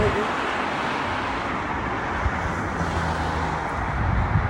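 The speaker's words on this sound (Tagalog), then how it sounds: "Kaya maingay sa sasakyan." Steady car traffic noise rumbles from a nearby road, a continuous broadband wash with some wind buffeting on the microphone, no voices heard.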